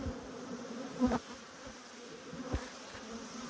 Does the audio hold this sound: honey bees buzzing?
yes